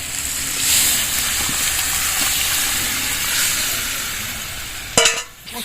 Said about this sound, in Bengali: এবার এই ঝোলটা ঢেলে দেবো